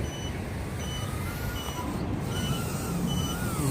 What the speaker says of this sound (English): So the buzzer makes noise. It's not happy when you kick the throttle all the way up